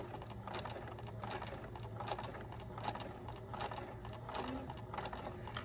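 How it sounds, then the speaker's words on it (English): A sewing machine stitches forward through fabric with a fast, steady mechanical whir and rhythmic needle clatter, close and alone at low volume. "I'm going to sew forward a little bit"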